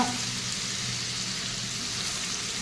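Ginger, green chilli and garlic thecha paste frying in a hot pan, giving a continuous even hiss of sizzling oil, close and unbroken.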